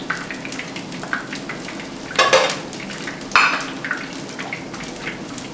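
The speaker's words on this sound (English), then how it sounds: "This is what it looks like when it's frying in the pan." Pieces of chicken for a kosher sweet and sour dish fry in a pan with a soft ongoing sizzle. Two louder bursts of crackle and stirring clatter break in near the middle.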